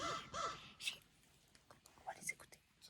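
Crows caw at a campground along the P'tit train du nord route in the morning, with two loud caws up front, then scattered fainter calls and rustles while someone whispers.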